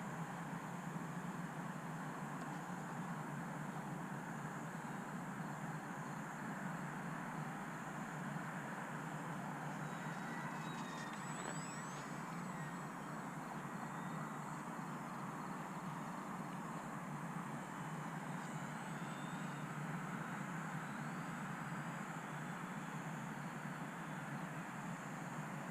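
A small UMX Turbo Timber Evolution RC plane flies loops and stalls overhead, its faint high electric motor whine rising and sweeping in pitch against steady outdoor wind and background noise, with no talking.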